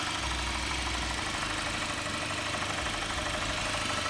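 A 2014 Cadillac CTS with a 2.0 liter VVT direct-injection engine idles steadily, a close, even low rumble with a faint ticking texture and no voices.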